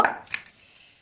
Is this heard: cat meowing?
no